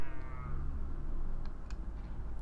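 A cat in the Harry Potter and the Philosopher's Stone video game gives a short meow near the start, followed by a few faint clicks and a low steady background hum.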